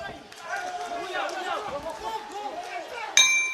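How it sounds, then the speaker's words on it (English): A boxing ring bell clangs once, loud and bright with a long ringing decay, closing a round at a men's world boxing championship bout after a stretch of crowd noise and commentary. "Well, the bell does go."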